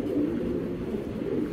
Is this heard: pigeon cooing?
yes